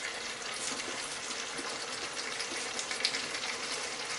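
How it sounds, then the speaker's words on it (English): A minced lamb and peas curry (keema matar) boils hard in a pot with a continuous, busy bubbling and hiss. Small pops rise out of it here and there. "it's starting to boil rather aggressively"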